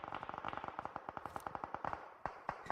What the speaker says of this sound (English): Maniac and Dokuma taking shots across the way may allow them to sneak their way through under cover of gunfire.